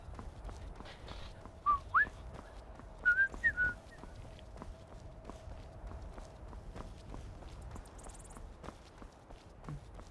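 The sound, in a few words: person whistling a tune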